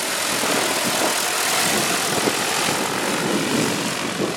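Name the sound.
agricultural spraying drone flying over winter canola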